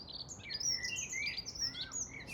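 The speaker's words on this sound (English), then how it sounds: "I can hear the birds, but I just can't see them." Garden birds such as robins, blue tits, dunnocks and blackbirds chirping on a spring day, several bright tweets overlapping at moderate distance with no talk.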